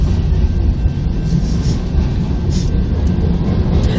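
A Union Pacific freight train with new coil cars rolls past close by, a loud, steady rumble of wheels and rail noise that holds for the whole stretch without letting up.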